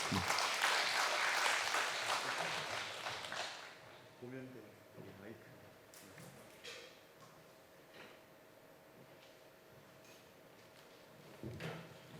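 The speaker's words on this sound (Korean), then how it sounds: "박수 하시죠." Applause from a church congregation fills the first few seconds, then fades to a quiet room with scattered small sounds and a brief burst of clapping near the end.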